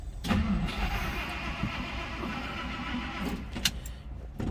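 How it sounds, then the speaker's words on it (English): A 1959 DeSoto Firesweep with a 361 V8 cranks and fires up, its engine noise sustained and fairly steady throughout, with a few brief sharper bursts near the end. "let's go ahead and fire this up"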